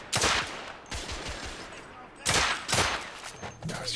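Pistol gunfire in the video game The Order 1886, a few loud sharp shots spaced apart with crackling reverberation, a voice speaking between them.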